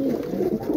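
Caged pigeons, royal teddy birds among them in a loft enclosure for ten to fifteen, give a steady stream of close, low overlapping coos.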